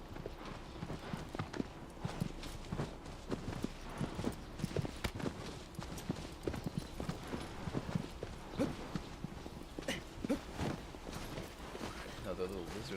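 A horse in the Shadow of the Colossus video game clip-clops steadily, its hooves striking in a brisk, even rhythm throughout, with speech audible alongside.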